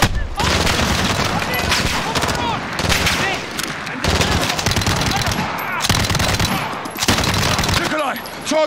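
Rapid automatic gunfire from Call of Duty: Modern Warfare, loud sustained bursts of machine-gun fire with short gaps between volleys, heavy and close throughout.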